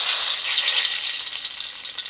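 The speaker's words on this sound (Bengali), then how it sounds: "হাঁসের মাংস রান্না করার জন্য এই তেলে দিয়েছি দুটো তেজপাতা" Two bay leaves sizzling in hot mustard oil in a kadai, a continuous bright hiss that holds steady and fairly loud throughout, with no speech.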